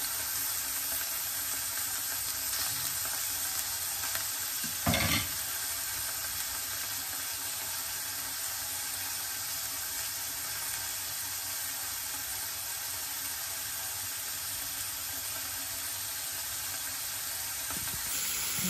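Pork steak frying in a pan with butter, garlic and rosemary, a steady, even sizzle throughout, with a brief clatter near five seconds and another near the end.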